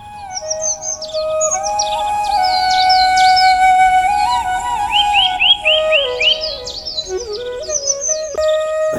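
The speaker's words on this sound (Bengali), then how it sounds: "সকালে পাখিদের কিচিমিচিতে ঘুম ভেঙে যায় গ্রামের সবারই" Birds chirp and whistle in a village on a morning, bright, clear calls repeating close by, loud and alone with no voices.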